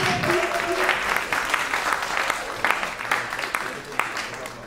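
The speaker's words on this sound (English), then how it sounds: "So round of applause for the red team" Steady audience applause for the winning red team at a live debate show, a continuous wash of clapping at moderate volume, with some voices faintly audible beneath it.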